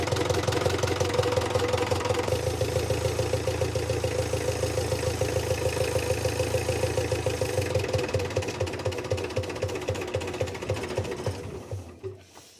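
A 1974 Mercedes O309 bus's OM314 diesel engine idles low with a steady, rapid clatter. It runs evenly for several seconds, then slows and fades as it winds down toward a stop.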